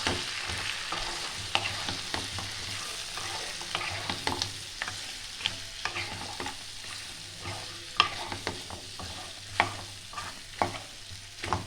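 A spoon stirs mutton with ginger-garlic paste in a hot pan for Rogan Josh, giving steady low sizzling with irregular scraping and clinking strokes, close and fairly quiet, with no talk.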